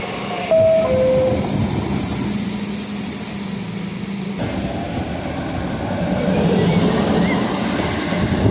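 An R44 subway train rumbles steadily along with a broad roaring noise, a brief high squeal near the start, and swelling rush toward the end.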